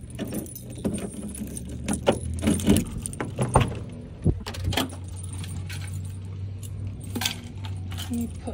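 Keys jangle and clink in close bursts as a mobile nail salon bus is unlocked outdoors, with a steady low vehicle hum underneath.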